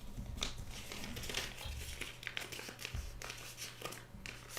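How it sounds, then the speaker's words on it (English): Quilt fabric for a table runner rustles and crinkles continuously as it is folded in half, a soft close-up shuffling texture with no voice over it. "You fold that in half again."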